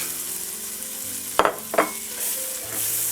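Ingredients with pressed garlic stir in a hot pan for scalloped potatoes, a low steady sizzle punctuated by two sharp, close scraping strokes of a utensil midway through.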